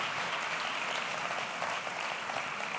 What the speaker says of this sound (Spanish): Txalobero haientzat nola ez gaur parte hartzeagatik